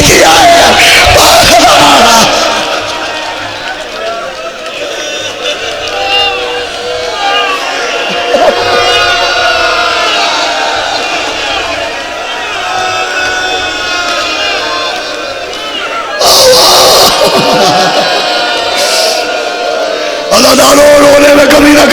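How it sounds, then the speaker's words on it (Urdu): A mourning congregation at a majlis chants slogans and calls out in unison, a loud crowd roar that swells and rises in bursts over sustained murmuring voices, close and dense throughout. "تم نے نعرے لگا دیے، سبحان اللہ کہہ دیا"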